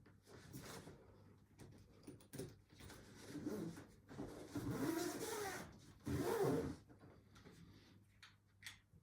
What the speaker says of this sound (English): This is just going to zip right on here